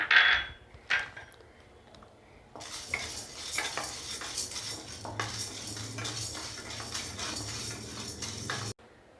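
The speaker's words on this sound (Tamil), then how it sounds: "நம்ம எடுத்து வச்சுக்க கடலைப்பருப்பையும் போட்டு இதில் வறுத்து எடுத்துக்கலாம்." Chana dal dry roasting in a pan without oil, with a utensil stirring and scraping the lentils in a dry rattling hiss, after a few clinks of cutlery against the pan.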